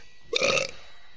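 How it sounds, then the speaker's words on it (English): One short, close burp erupts from a person during a gaming session, a brief guttural belch standing out against a quiet background. "Burp."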